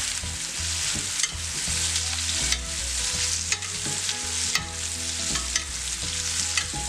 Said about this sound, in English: At this point, we're gonna baste our ribeye.